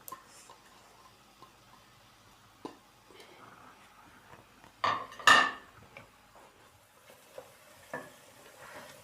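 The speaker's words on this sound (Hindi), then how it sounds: "ऑयल को हम थोड़ा गर्म होने देंगे। इसके अंदर मैं एक बड़े साइज़ का प्याज डालूंगी," Chopped onion dropped into hot oil and stirred, giving faint sizzling with scattered utensil clicks and a louder clatter of pan and spoon midway.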